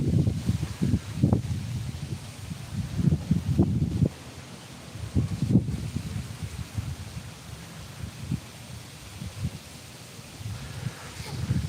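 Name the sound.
strong wind blowing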